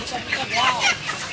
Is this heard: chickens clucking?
yes